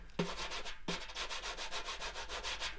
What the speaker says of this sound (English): I think that's just scratching on the snare drum face of the banjo there to make extra percussive noise again